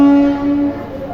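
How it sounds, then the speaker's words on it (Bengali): A train at Shalimar railway station sounds a long, steady tonal horn that is loud and sustained through the short moment, carrying over a faint background of station noise. "এই হচ্ছে শালিমার স্টেশন।"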